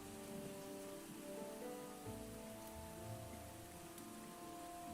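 Steady rain falls in a continuous, even hiss, moderately loud and unbroken throughout, with faint tonal ambience underneath and no voices.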